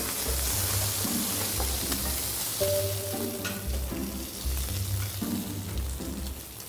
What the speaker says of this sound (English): what I like to do first is to roast this with a bit of butter, thyme and garlic